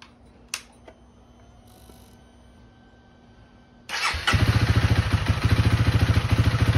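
A Honda CRF300L dual-sport motorcycle engine cranks and catches after a quiet stretch, then settles into a loud, close, steady thumping idle as it warms up on a cool day.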